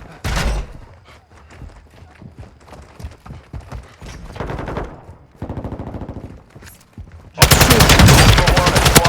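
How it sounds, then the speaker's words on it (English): Gunfire rattles in Call of Duty Modern Warfare II in the DMZ mode on the Vondel map, with scattered distant shots and thuds building to a loud sustained burst of automatic fire at the end. "You are taking effective fire."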